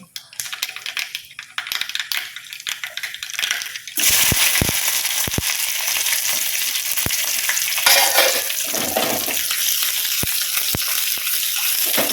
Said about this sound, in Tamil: கீரைக்கு வெங்காயத்தை நசுக்கி போட்டு தாளிச்சா தான் சூப்பராக இருக்கும்